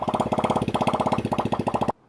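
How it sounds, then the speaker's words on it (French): Small 50cc Chinese quad engine idling unevenly up close, a fast sputtering pulse with brief stumbles and hiccups in its rhythm before cutting off abruptly. "On entend qu'il y a des petits couacs sur le ralenti."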